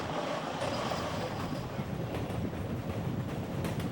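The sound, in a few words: passenger train running on tracks along the Hudson River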